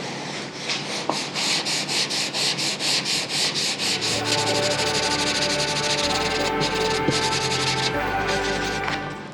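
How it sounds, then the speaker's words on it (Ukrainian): Steady rhythmic sanding strokes rasp back and forth across body filler on a car panel, loud and close, with a low machine hum joining partway through. "Тому обережно без сильного натиску потихеньку шліфуємо"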